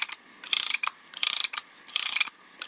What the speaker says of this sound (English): let's retract those pistons